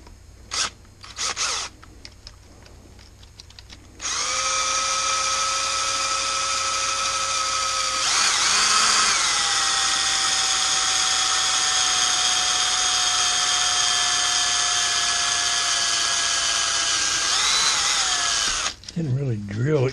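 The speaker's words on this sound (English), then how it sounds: "Didn't really drill, it kind of melted its way through there." Power drill boring through a plastic bottle for a wind spinner, a high steady whine running about fifteen seconds after a few short taps and bursts, then cutting off; a voice speaks briefly at the start.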